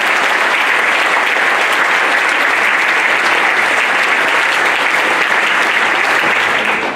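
A large audience applauds ski champions at a speech, a loud, dense and unbroken roar of clapping that holds steady for several seconds before easing slightly at the close.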